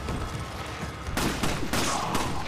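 Rapid bursts of gunfire from the game Resident Evil 5, a sustained crackling fusillade with sharper volleys partway through, loud and close with no talking.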